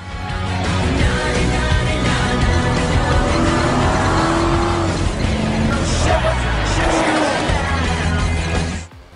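A support car drives alongside a group bicycle tour, its engine and tire noise steady and close with a passing swell, while people talk over it.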